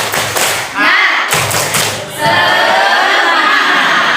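A group performs a rhythmic spirit-clap routine in a training session, loud bursts of claps in quick patterned clusters, with pauses between rounds.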